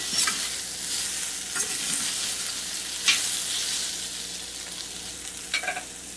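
Soya chunks (meal maker) frying in a pan over a low flame, with a soft, steady sizzle and occasional scraping stirs of a spatula, close and continuous, no voices.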